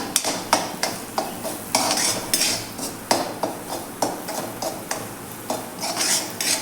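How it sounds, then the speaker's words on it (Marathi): Semolina roasting in ghee in a pan is stirred steadily, the spoon scraping and tapping the metal in a quick, even rhythm of close, crisp clicks over a faint sizzle. "आणि रवा आपण आपल्या तुपावरती छान असा एक तीन दोन ते तीन मिनिट छान असा भाजून घ्यायचा आहे"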